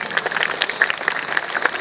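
Audience applause at a school annual day function, a dense continuous patter of many hands clapping together, steady and moderately loud throughout.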